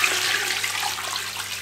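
Water pours steadily into a cooking pot for hareesa, about one litre added after salt, a continuous close splashing rush with no talk over it.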